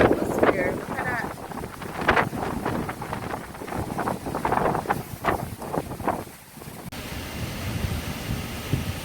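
Blustery wind just after Tropical Storm Delta passed, buffeting the microphone outdoors with steady rough rumble and gusts; a voice talks over much of it before the wind carries on alone.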